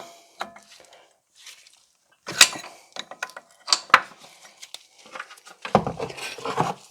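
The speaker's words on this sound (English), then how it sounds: "And we should be able to just spin that off." Wrench work on a front brake hose fitting of a BMW E66 740Li: sparse metallic clicks, taps and short scraping rattles at close range, separated by quiet gaps, with a busier clatter toward the end.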